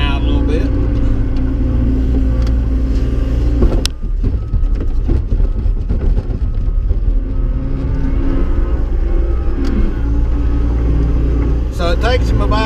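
A skid steer loader's engine runs loud and steady throughout while hauling a load of lime, its wheels spinning out briefly with a rougher churning burst near the middle, and a few quiet spoken words under the engine.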